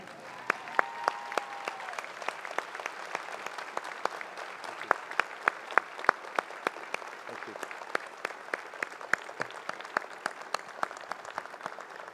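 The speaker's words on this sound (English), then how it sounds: "please join me in a standing ovation to thank and recognize the faculty" A graduation convocation audience gives the faculty a standing ovation, and the sustained clapping stays steady and moderately loud for about twelve seconds with sharp individual claps standing out. Someone speaks briefly near the start.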